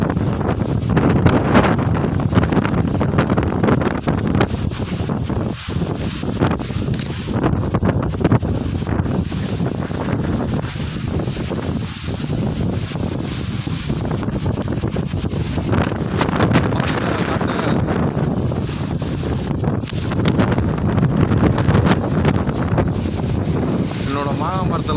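Strong wind gusting through mango trees, a constant loud roar with heavy buffeting against the microphone and rustling throughout; a voice may be faintly present under the noise.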